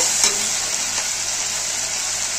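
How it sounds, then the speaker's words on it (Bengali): Poppy seed paste with two green chillies fries steadily in a pan, a continuous close, even sizzle with a couple of faint stirring scrapes and no voices. "পোস্ত বাটাটা ভালো করে কষিয়ে নেব।"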